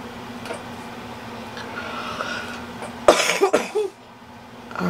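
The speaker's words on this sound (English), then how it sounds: "every time I talk, I keep coughing" A person coughs in a short burst of several harsh coughs, close and fairly loud, over a steady low room hum during a quiet watercolor painting session.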